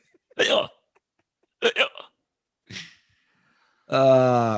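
Drunken hiccups in the style of the cartoon mouse from Dumbo, three short separate hiccup bursts spaced about a second apart, then a longer voiced squeal at the end, close and clear with no talking.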